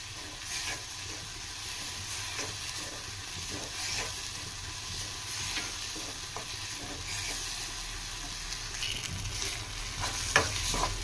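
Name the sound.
prawns frying in oil, Andhra style prawn fry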